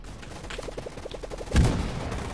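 A rapid burst of about ten evenly spaced shots from a compact Draco-style rifle in the Roblox shooter Gunfight Arena, ending in a louder boom, with no talking.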